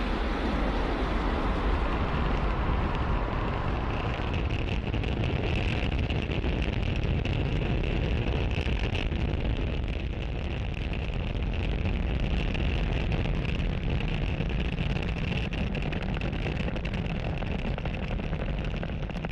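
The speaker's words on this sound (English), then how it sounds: "That incredible view means that Falcon 9 has successfully lifted off from Pad 40" A SpaceX Falcon 9 rocket lifting off from Pad 40 carrying the SATRIA-1 satellite: a dense, unbroken rumbling roar that stays loud and steady for nearly twenty seconds, with no talk.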